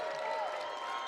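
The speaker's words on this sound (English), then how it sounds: "Allow Riley Pauley to get a nice little round of applause." Crowd applause at a 2021 NAIA women's basketball Round of 16 game between Concordia and Marian, a player's substitution greeted by a soft, steady round of clapping in a gym, with a voice faintly heard amid it.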